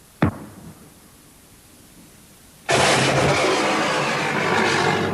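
A sharp blast cracks out early, then after a short pause a loud, dense roar of explosion against a tank erupts and keeps rumbling steadily to the end, close and forceful.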